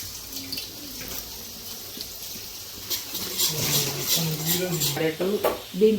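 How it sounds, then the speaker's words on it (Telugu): Onions and green chillies fry in a pan with a low, steady sizzle and occasional stirring, while a voice talks over the cooking in the second half. "5 to 10 minutes బాగా ఆనియను, పచ్చిమిర్చి అన్నీ బాగా వేయించుకోవాలి మనం"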